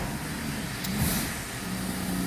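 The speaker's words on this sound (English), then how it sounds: "Engine is running, starts up okay." A BMW car engine running steadily after starting, a continuous mid-level idle hum with a slight rise in revs near the middle, close and without talk.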